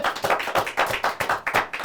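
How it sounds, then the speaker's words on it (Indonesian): Clapping from a studio audience at an Indonesian commentator challenge show, with roughly a dozen sharp, fairly even claps over two seconds, close and steady. "Tepuk tangannya sekali lagi."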